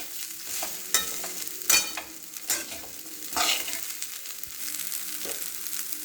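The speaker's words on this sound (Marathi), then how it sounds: "मिक्स करून घेऊ." A spoon stirs a pohe mixture with turmeric and salt in a hot pan, giving a soft sizzle broken by several distinct scraping strokes at an uneven pace, up close with no talking.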